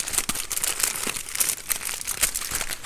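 Heavy duty aluminium foil is folded tightly over a green bean casserole dish, giving close, continuous crinkling and crackling with sharp bursts throughout and no voices.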